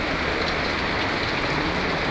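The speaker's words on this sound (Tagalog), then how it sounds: "Lakas ng ulan." Heavy rain falls in Lebanon as a dense, unbroken hiss of drops striking surfaces. It is loud and close, with no pauses and no speech.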